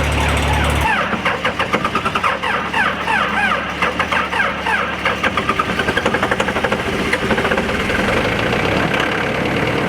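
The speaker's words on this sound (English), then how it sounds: "those cold diesel engines, they do not like to start" A cold diesel engine on work machinery cranks, catches and settles into a rough, knocking idle with a steady rapid clatter, loud and close, running alone.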